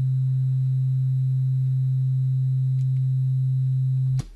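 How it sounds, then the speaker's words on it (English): A single pure sine wave from an Ableton Operator synth, with LFO and filter switched off, holds a steady low tone for about four seconds before cutting off abruptly. "So all we should have is just a single sine wave."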